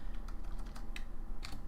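Fingers tap out an Nmap command on a computer keyboard, a quick irregular run of soft close keystrokes with a few louder presses, no voices.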